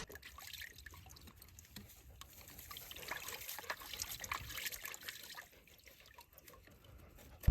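Water trickling and dribbling steadily from a leaking hydrant line that rusted out near a farm garden, a soft continuous liquid wash at close range with no talk.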